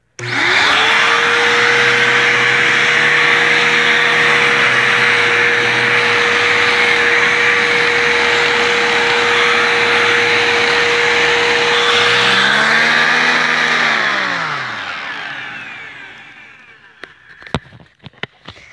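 A vacuum cleaner runs at full power, loud and close, with a steady high whine and a brief pitch dip partway through before the motor winds down and cuts off, followed by a few small clicks.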